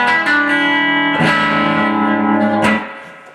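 Electric guitar played through the bridge pickup of a La Cabronita Telecaster fitted with TV Jones Filter'Tron pickups, giving a growling, slightly distorted tone: three sustained strummed chords ringing loudly with no talk.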